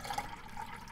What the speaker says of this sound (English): Here, I'll pour it because it's a lot of water in there still.